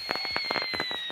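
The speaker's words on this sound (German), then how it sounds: "Die Alert-Trip-Mines zünden erstmal nur ein Feuerwerk." An alert trip mine in the game Hunt: Showdown sets off fireworks, giving a quick run of sharp crackling pops over a thin steady whistle, close and loud for about a second.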